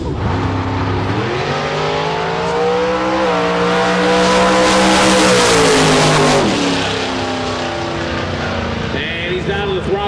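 A Super Gas drag race car launches and accelerates down an NHRA drag strip, its engine roaring and climbing through rising, shifting pitch before fading away, with a track announcer talking over it.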